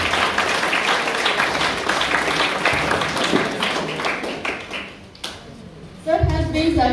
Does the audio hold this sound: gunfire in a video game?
no